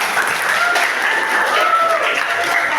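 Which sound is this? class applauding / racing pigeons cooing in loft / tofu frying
class applauding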